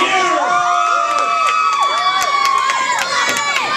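A wrestling crowd cheers and whoops loudly, with shouts and claps piling up over one another in a continuous, lively roar.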